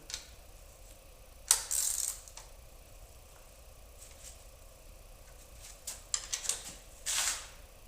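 A ratchet tightening rocker arm nuts to set preload on a big-block engine valve train, giving a few separate bursts of sharp clicking under steady faint background noise.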